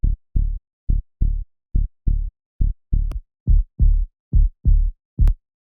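Subby prog synth bass built from stacked plugin instances, a run of short, punchy low notes pulsing in an even rhythm with brief gaps, loud and alone.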